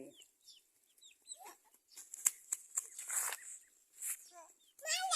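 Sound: ducks and chickens clucking

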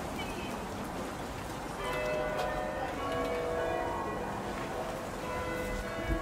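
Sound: church bells ringing

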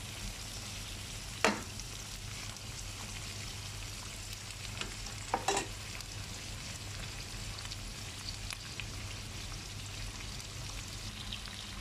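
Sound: stirring chili pepper and turmeric frying in a pan

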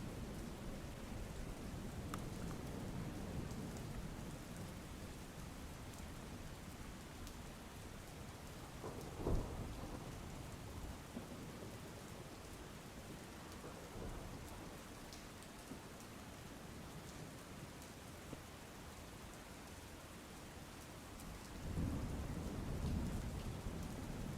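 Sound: heavy rain with thunder

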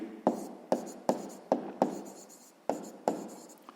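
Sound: writing by hand while solving a math exercise

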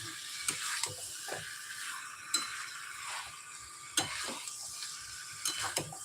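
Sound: potato curry (aloo dum) being stir-fried in pan

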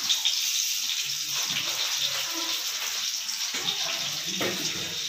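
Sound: cumin seeds sizzling in hot oil

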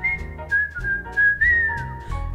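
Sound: person whistling a tune

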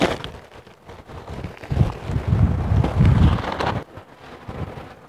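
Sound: strong wind blowing

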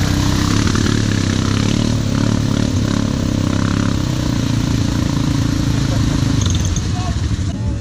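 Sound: Suzuki King Quad ATV engine running

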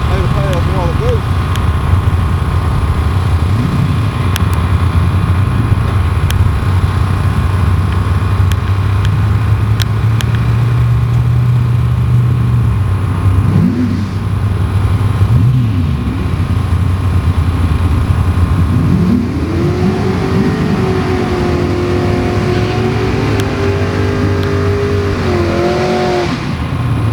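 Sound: race car engine at Battlefield track

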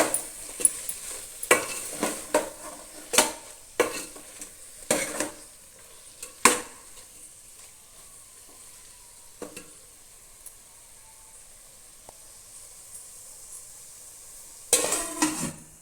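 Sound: chili powder being stirred into sambar in a pan

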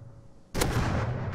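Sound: double barrel shotgun firing in the video game Rust

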